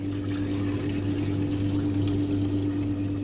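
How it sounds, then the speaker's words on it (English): Water draining off a pipe friction-loss test rig through an opened ball valve, a steady pouring rush over a constant low pump hum. "Open the ball valve again to allow water, accumulated water, to drain off the system."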